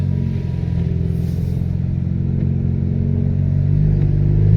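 A 4-cylinder turbo Camaro on its first drive after an engine build, its engine droning steadily from inside the car and swelling gradually as it accelerates toward the end.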